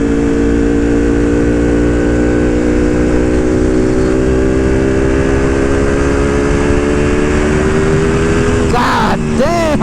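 A Ducati Panigale V2 with a Vandemon full exhaust runs under load while riding, its loud engine drone and steady harmonic tone rising slowly with revs, and a short wind-buffeted burst near the end.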